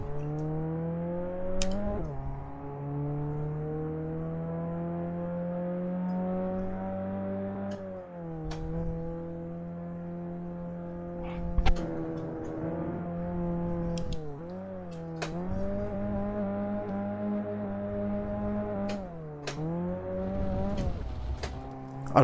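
A Ford Sierra Cosworth race car at Brands Hatch in the sim game Assetto Corsa drones steadily, its engine note rising and then dipping sharply at each of several gearshifts, with occasional short clicks over it.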